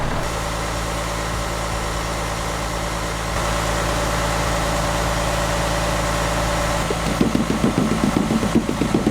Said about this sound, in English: Motors on these, you have to keep them revved up.